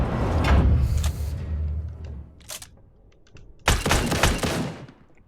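AA-12 automatic shotgun in the video game Badlanders firing two short, loud bursts of rapid shots, separated by a quieter pause with faint clicks and a brief mechanical rattle.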